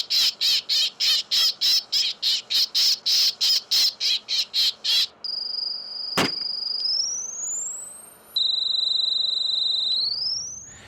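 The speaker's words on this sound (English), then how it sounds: "This is a propane cannon with an audible distress call on it with 20 speakers." A propane bird-scaring device at a busy airport blasts electronic bird distress calls through twenty speakers: rapid loud chirping pulses, then a sharp bang and long piercing synthetic whistling tones that sweep upward.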